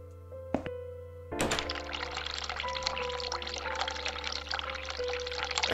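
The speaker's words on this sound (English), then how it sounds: "Turn cold water on." A sink tap is turned on in The Cat Lady video game, a knock followed by water running steadily into the basin as a continuous splashing stream over a low hum.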